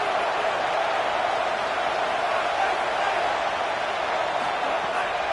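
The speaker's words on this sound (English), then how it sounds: "Listen to this crowd just shaking the girders of this place" A packed stadium crowd at a Baylor football game roars in a constant, loud, dense wall of noise that holds without pause, apparently with no clear talk on top.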